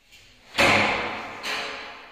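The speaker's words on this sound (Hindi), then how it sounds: "ये एक दरवाजा ये हो गया, एक डबल दरवाजा है इसके अंदर" A double door in a house swings open with two broad whooshing thuds, the first loud and the second softer, close by with no talk.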